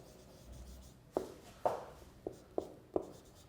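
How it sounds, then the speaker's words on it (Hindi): Chalk or marker tapping and scraping a classroom board during an English lecture, five short distinct strokes at a steady pace, fairly close, with no talk over them. "रोल मैं इधर लिख भी देता हूँ"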